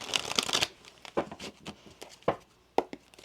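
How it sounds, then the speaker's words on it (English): Tarot cards shuffled in a series of crisp riffling bursts, a dense flurry at first and then separate sharp shuffles spaced apart, close and fairly loud with no talking. "One more shuffle."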